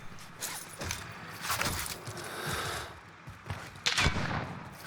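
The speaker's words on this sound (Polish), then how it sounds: "O no nie, on strzela do mnie" Rapid bursts of automatic gunfire in the Call of Duty Warzone video game, sharp cracks repeating through the clip and peaking loudly near the end, with no talk.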